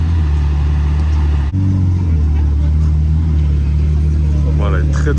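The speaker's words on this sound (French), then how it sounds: "L'échappement, vous l'avez entendu, c'est pas du tout d'origine, je pense que c'est une Hobbytech." Ferrari 812 supercar fitted with a non-original Hobbytech exhaust, its engine droning steadily and loudly nearby with a brief dip and rev, set against a busy Cannes street with crowd chatter in the background.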